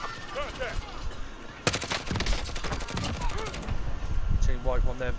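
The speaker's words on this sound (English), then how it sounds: "Taking fire." Bursts of automatic gunfire in Call of Duty: Modern Warfare, a sharp loud volley midway with scattered shots around it, while players talk over game voice chatter.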